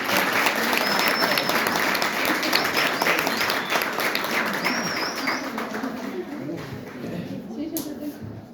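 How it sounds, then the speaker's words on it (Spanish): Loud, sustained applause from a school audience for a nervous sixth-grade girl about to read, dense clapping that slowly eases off, with voices and high birdlike whistles mixed in. "le damos un aplauso por favor"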